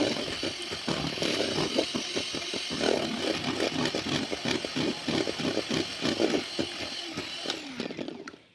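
An electric beater runs at medium speed, whisking eggs with sugar for a sponge cake, producing a continuous close motor whir with a rapid rattling texture that fades out at the end.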